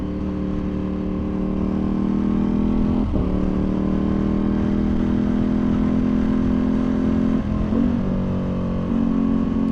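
A tuned Ducati Panigale V2 motorcycle drones steadily while ridden on the street, a loud close engine hum holding pitch with two brief shift dips, no voices.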